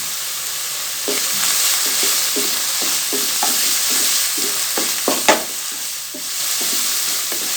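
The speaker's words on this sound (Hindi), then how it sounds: "लहसुन अदरक का पेस्ट डाल के इसकी बुनाई करेंगे कीमे की" Beef mince frying with garlic ginger paste over high heat, with a steady hiss of sizzling oil and repeated scraping stirs of a spoon through the pan, one sharp clack near the end.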